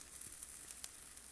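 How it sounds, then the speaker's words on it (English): Orange blueberry pancakes sizzle quietly on a skillet with a faint, even hiss and a few tiny pops as the blueberries burst. "That's the blueberries opening up and the juice sizzling on the skillet."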